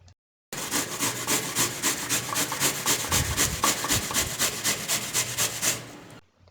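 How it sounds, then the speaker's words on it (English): Apples being grated by hand on a grater for apple wine, a steady rhythmic rasping scrape of even back-and-forth strokes, close and clear, with no talk. "let's take a grater and let's grate our apples"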